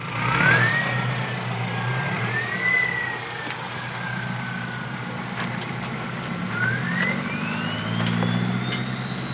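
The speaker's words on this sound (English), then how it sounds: "you can hear the engine brakes working" A 4WD engine braking in first gear low range on a steep High Country track in Victoria: a steady low drivetrain drone with whining tones that rise and fall as the revs shift, close and continuous, with no talking.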